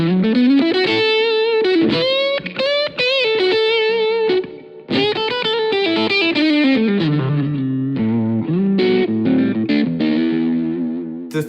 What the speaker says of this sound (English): So the sound I'm playing for at the moment is based on a Marshall Blues Breaker